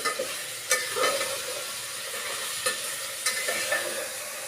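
Gongura dal fries in a pan with a steady, even hiss. A few faint clicks and knocks from stirring come through, and no voice is heard.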